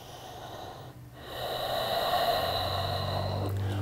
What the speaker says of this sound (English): We're breathing fully.